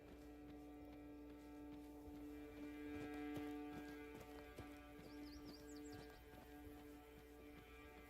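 A horse in the fantasy video game Tainted Grail: The Fall of Avalon: faint hoof clops and a soft whinny sit quietly beneath sustained game music with scattered light percussive ticks.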